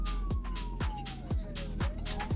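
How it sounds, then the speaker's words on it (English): A South African police car siren wails in a sweeping tone during a pursuit of robbers, riding over a series of regular heavy thumps and a busy background. "filled with the sound of sirens and the intensity of the chase"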